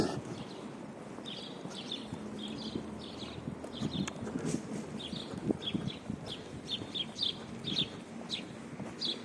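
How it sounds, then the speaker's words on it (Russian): Many sparrows chirp outdoors on a cold, windy late-April day in snowy Yakutsk among Soviet-era panel apartment blocks: quick, repeated bright chirps scattered through the clip over a steady rumble of wind and background noise. "Воробьев-то сколько"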